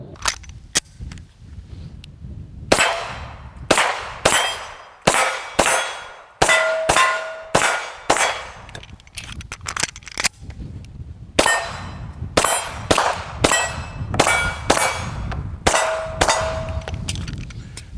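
Beretta APX pistol shots ringing steel targets outdoors, each sharp report followed by a bright metallic clang, fired in quick strings of several shots separated by short pauses, loud and close.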